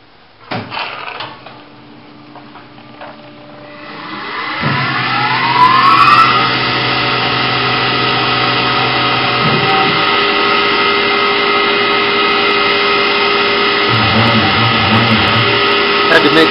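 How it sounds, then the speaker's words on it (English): A CNC router starting a cut with a 1/16 inch end mill, the spindle spinning up to a loud steady whine that holds with shifting tonal bands as the tool moves through the workpiece, with no talk. "Using a 1/16 inch end mill to start, and then be switching out to a 1/8 inch end mill to finish it off"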